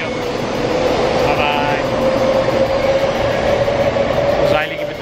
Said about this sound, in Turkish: Tren gidiyor.